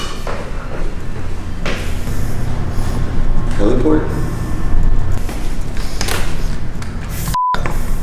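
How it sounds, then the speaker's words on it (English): Locked rooftop stairwell door in an abandoned Homeland Security building being tried, a few separate clunks and rattles spaced out over several seconds, with someone talking between them. "Of course, the door was locked."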